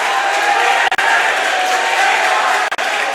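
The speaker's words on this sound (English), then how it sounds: "Jack Healy getting a hand from the crowd." Crowd in the gym at a high school boys basketball game applauds a player, a steady, dense wash of clapping and crowd noise that runs evenly throughout.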